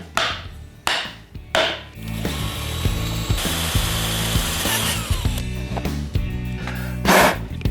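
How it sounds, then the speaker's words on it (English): A power drill bores a 5/16-inch hole through metal while a Honda Shadow sissy bar is fitted, heard as a steady whirring run in short bursts and then one sustained stretch, loud and close with no talking. "now that we've drilled our hole, that's a 5/16 hole"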